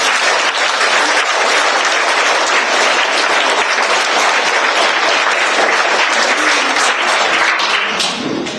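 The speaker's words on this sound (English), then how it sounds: "Can we give a big round of applause," A crowd at a book launch event in Horsell, Woking, Surrey, England, bursts into loud, sustained applause. Dense clapping stays strong and even for over eight seconds before tapering at the very end.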